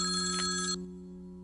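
A telephone rings once late at night, a bright sustained electronic ring that cuts off sharply, leaving a low steady hum behind.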